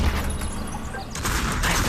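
AK-47 rifle fire in a video game: a dense, continuous burst of gunshots with a sharper flurry near the end, loud and close.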